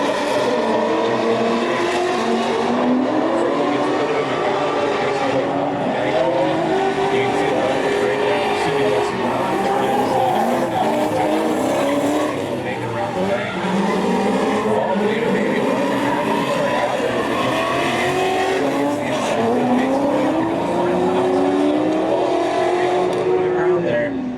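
Pro Am drift cars launch off the line and run on, engines roaring and revving with repeated rising sweeps and tire squeal, loud and continuous for the whole stretch while a commentator talks over it.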